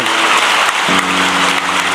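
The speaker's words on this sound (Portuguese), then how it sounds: "Vamos aplaudir quem nos acompanhou de casa" A church congregation applauds at a Catholic priest's talk, a loud, dense, continuous clapping that holds steady throughout without breaks.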